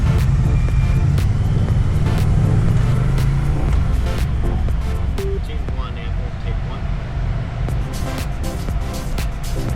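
A Moto Guzzi motorcycle rides a mountain road in Friuli toward the Slovenian border ridge, its deep, steady engine rumble and wind noise running beneath continuous spoken narration.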